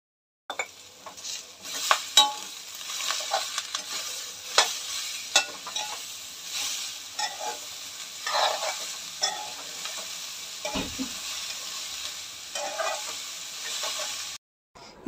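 Sliced onion, ginger, garlic and salt sautéing in a pan, heard as a steady close sizzle broken by repeated spoon scrapes and knocks against the pan, with a brief low thump near the end before it cuts off.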